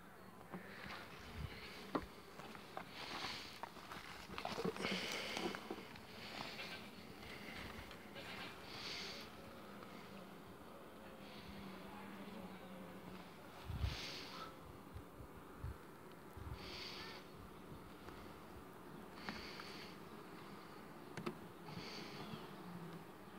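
Honey bees buzzing around a hive box as a colony is transferred, a soft continuous hum with individual bees swelling louder as they pass near, plus faint handling noises.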